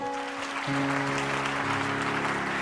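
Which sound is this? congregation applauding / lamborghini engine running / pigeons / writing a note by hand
congregation applauding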